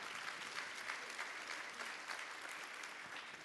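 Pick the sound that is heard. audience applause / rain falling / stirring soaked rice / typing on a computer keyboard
audience applause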